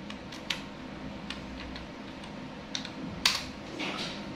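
Commands are typed on a computer keyboard at a Windows command prompt, giving a few scattered, soft key clicks over a low background hum.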